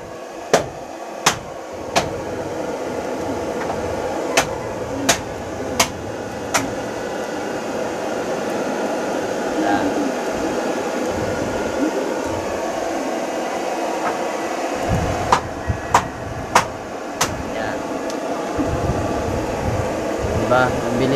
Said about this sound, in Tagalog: So meron tayong blower dito mga pare ko, para mabilis siya papuyin.